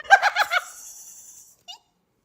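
Birds give a short burst of squawking, gobbling calls, then a brief faint chirp after a pause.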